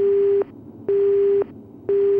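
A telephone rings in the video game Resident Evil, sounding as a steady electronic tone repeated in three even bursts with short gaps between them, clear and fairly loud with no voices over it.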